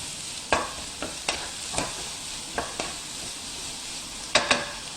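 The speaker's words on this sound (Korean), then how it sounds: "자, 오징어 이렇게 센 불에 볶으면 이제 모양이 솔방울 모양이 이렇게 나오기 시작합니다" Squid stir-fries over high heat with a continuous hissing sizzle. Quick scraping strokes of a utensil against the pan break through the hiss at irregular intervals.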